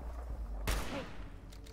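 A single gunshot in Fallout 4 cracks out sharply, loud and close, in a stormy, spooky outdoor area near a church, then fades into low rumbling ambience.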